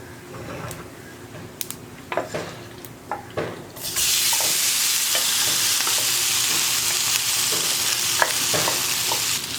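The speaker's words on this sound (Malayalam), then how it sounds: "ബീഫ് ചേർത്തിട്ട് നമുക്ക് ഇളക്കി കൊടുക്കാം" Beef stirred into masala in a pan for a Kerala-style beef fry: first scattered clicks and scrapes of a spoon, then a sudden loud, sustained sizzle with ongoing stirring taps beneath it.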